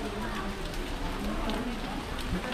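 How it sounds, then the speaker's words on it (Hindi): Steady rain falls outdoors near the Rock Garden in Chandigarh, a dense continuous hiss with close drips and patters, while voices murmur faintly underneath. "बाहर आप देख सकते हैं कितना बारिश हो रही है।"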